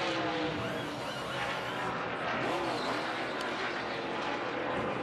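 Joey Logano's NASCAR race car rolls down pit lane during the 2017 Boyd Gaming 300, a loud, rough engine roar with shifting pitch amid broad crowd and track noise.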